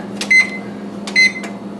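An oven's control panel gives two short, clear electronic beeps about a second apart as the broiler is switched on to its highest setting for pizza, close and alone over a faint hum.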